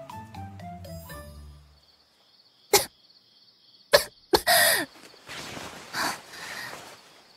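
Two rough coughs from someone coming to after being knocked unconscious in a dark rock cave. They are short, close bursts separated by a pause, following a fading musical intro, with quieter scuffing sounds afterward.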